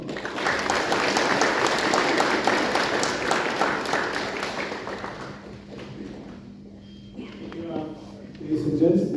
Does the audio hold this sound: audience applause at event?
yes